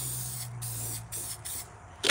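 A spray paint can hisses in several short close bursts with brief pauses between them during live spray painting, loud and airy, with no talk.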